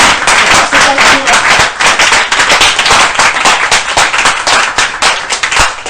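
A church congregation claps loudly and continuously to acclaim Jesus, a dense, steady burst of many hands with brief sharper accents, close and filling the room.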